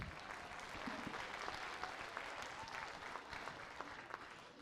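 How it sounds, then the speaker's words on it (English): Applause from a crowd at a high school marching band season review, steady and fairly distant, with a few sharper individual claps standing out across the whole stretch. "Let's give her a round of applause as well."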